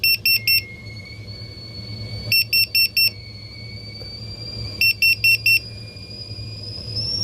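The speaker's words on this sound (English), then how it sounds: "Sorry, the beeping's annoying." A carbon monoxide detector in a van sounds in repeated bursts of four sharp, piercing beeps, each burst separated by a couple of seconds, loud and close over a low steady hum, with a thin tone lingering between bursts.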